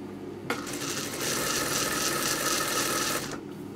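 A sewing machine stitches fabric in a fast, steady mechanical whir that starts abruptly, runs continuously for nearly three seconds and then stops, close and clear without talking.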